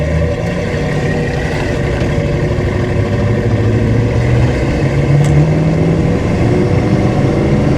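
A stock 350 V8 in a 1985 Chevrolet K10 Silverado short-bed pickup runs under acceleration, a loud, steady, close engine drone that rises gently in pitch, with no talking.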